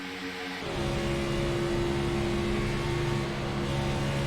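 A NASCAR-style stock car engine in a sim racing game at Talladega Superspeedway drones steadily, its pitch dropping and then holding as the driver works the throttle on and off.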